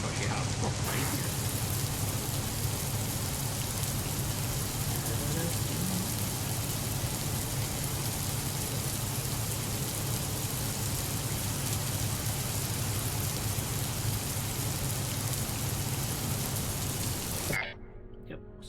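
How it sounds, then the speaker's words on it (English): Steady, dense rain in a video game falls without letup for about seventeen seconds as a loud hiss, then cuts off abruptly near the end; speech is faintly mixed in. "Hope that's made the rain a bit more bearable."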